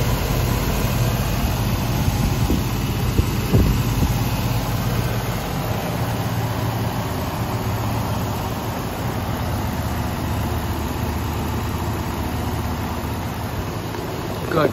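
A 2008 Dodge Durango's 5.7 Hemi V8 idles under the open hood, a steady low rumble heard up close over outdoor noise, continuous throughout.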